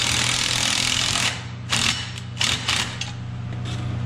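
The brake on a 75–250 lb trolley is tightened during assembly. A steady close mechanical whirr drops away into a few short, sharp ratcheting bursts, with no talk.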